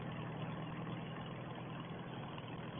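Farmall 300 tractor engine running while ploughing a field, a steady muffled rumble with constant low drone and no variation in pace, heard alone at moderate distance.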